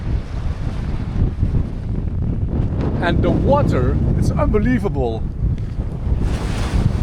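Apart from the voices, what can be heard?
strong wind at a beach in the Scottish Highlands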